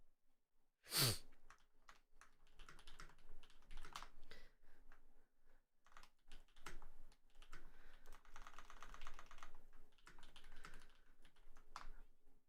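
Quiet, irregular tapping of fingers on a computer keyboard, nearby, with a brief loud breath or sniff near the start.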